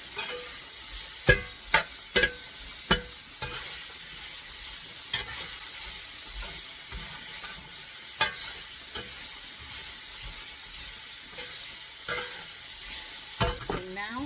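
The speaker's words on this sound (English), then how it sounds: "I'm going to keep on mixing this up well, because I'm also still mixing those spices that I just added." Onions and freshly added spices being stirred in a sizzling pan for elk pinto bean burritos, with steady frying hiss and repeated sharp scrapes and clacks of a utensil against the pan, close and alone without talk.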